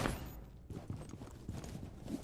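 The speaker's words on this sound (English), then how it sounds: "Loading new mag." Magazine reload in the mobile shooter Rainbow Six Mobile: a run of short, close mechanical clicks and clacks in an uneven rhythm, set against steady game background noise.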